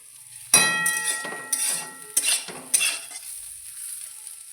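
Mixed vegetables frying in a pan, several sharp bursts of sizzle and spatula scraping against the pan over a quiet background, with no speech.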